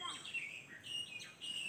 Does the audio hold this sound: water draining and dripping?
no